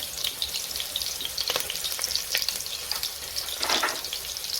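Carrots hit a pan of hot oil and aromatics for a lentil vegetable sauce, giving a close, crackling sizzle with intermittent stirring clatter and scrapes, moderately loud and without speech.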